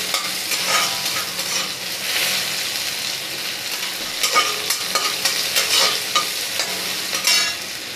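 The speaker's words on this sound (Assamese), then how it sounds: "এতিয়া লৰাই দিছোঁ ভালদৰে।" Chopped onions and whole cumin seeds frying in a pan while being stirred, a constant bright sizzle broken by repeated scraping, clattering strokes of the spoon, close and steady with no talking.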